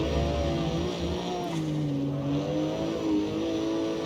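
A Porsche 911 GT3 Touring engine in the racing game CarX Street pulls steadily under acceleration, a loud continuous rear-engine drone with rising and shifting pitch, heard alone without speech.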